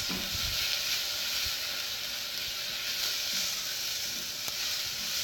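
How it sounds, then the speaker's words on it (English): Shallots brown in a hot pan with a dense, constant sizzling hiss, stirred with a heat-resistant spatula that adds faint scraping, steady and close with no talking. "we're going to stir this up while we brown these shallots"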